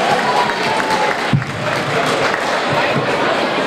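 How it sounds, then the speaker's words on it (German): A studio audience at a Rosenmontag carnival comedy show applauds loudly and continuously, a thick wash of clapping with some cheering mixed in. "Einen herzlichen Applaus für Steffi Graf und André Agassi."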